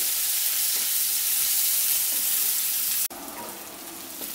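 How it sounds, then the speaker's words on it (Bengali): Chopped onion sizzles loudly and steadily in hot spiced oil for an egg and soybean curry, a dense crackling fry that cuts off abruptly near the end and then carries on more quietly. "এবারে দিচ্ছি এর মধ্যে কুচানো পেঁয়াজ। পেঁয়াজ থেকে হালকা করে 1-2 মিনিট একটু ভেজে নিচ্ছি"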